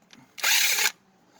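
A Craftsman power drill drives a bolt in one short, close whir lasting about half a second, set against near silence.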